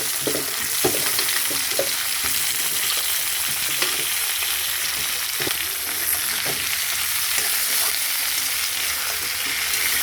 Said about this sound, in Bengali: আদা আদা পেঁয়াজ টমেটো একটু ভেজে নেবো